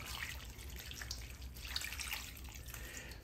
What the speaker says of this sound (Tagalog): Pagkatapos, lalagyan na natin siya ng tubig.